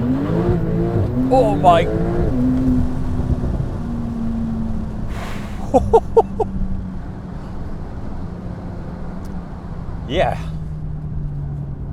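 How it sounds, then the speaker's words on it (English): A 2025 Porsche 992 Turbo 50 Years launching under launch control in sport mode, its engine rising in pitch through rapid gear changes then settling into a steady drone, with brief talk over it. "I would like to try launch control, sport mode."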